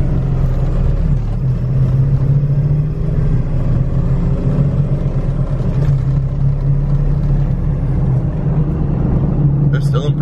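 A large truck engine rumbles steadily as it accelerates, heard from inside the cab, with a deep sustained drone throughout and people talking over it.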